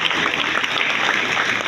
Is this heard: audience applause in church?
yes